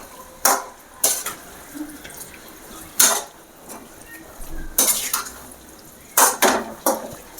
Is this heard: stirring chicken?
yes